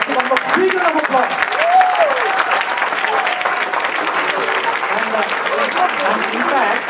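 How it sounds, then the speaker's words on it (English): An audience claps loudly and steadily throughout, a dense roar of applause with some voices mixed in. "Let's give one more big round of applause."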